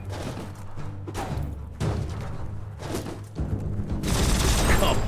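Heavy thuds and booms from shooting in Biomutant, with a louder crashing blast near the end that fits an exploding barrel, all loud and close against a low drone.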